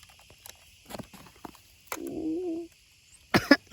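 A person outdoors on a hilltop coughs a few times in short, sharp, close bursts, with small knocks and handling noises between them.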